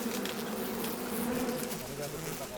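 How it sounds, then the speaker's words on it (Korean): Wild honeybees swarming at an old hive inside a hollow tree on Jirisan, a dense close continuous buzz of many insects with occasional faint human sounds beneath. "아주 강한 벌이에요"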